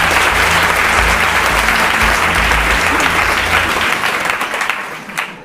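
Loud, dense applause from a studio audience on a Hindi quiz-style game show, sustained at full strength before fading out near the end.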